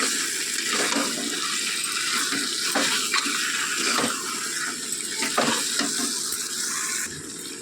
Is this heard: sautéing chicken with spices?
yes